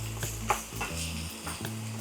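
Onions tossed onto beef mince sizzle on a grill over low heat for a smash burger. A quiet, steady fry is broken by several close scrapes and taps of a utensil, with no talking.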